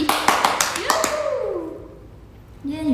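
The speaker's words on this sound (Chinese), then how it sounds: "掌声送给我们自己。" Several sharp hand claps in quick succession from singers of a girl group during a home livestream, brief and close, fading into quiet before a voice starts speaking.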